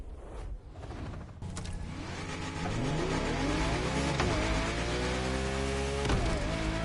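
Car engine revving and accelerating in The Crew Motorfest racing game, a loud steady drone with rising pitch sweeps as the throttle climbs through gears, alone without speech.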